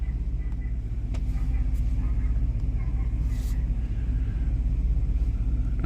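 A 1998 Chevrolet C1500 pickup engine idles with a steady, loud low rumble and no obvious stumble, close by, with a few faint clicks over it.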